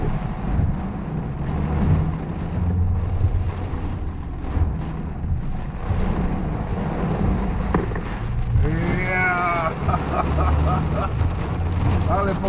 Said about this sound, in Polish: Normalnie oberwanie chmury.